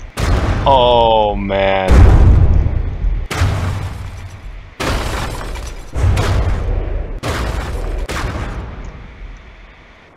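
Repeated heavy bomb blasts in the naval combat game From the Depths, a series of loud booming impacts roughly every second or two with decaying rumble, under a brief exclaiming voice.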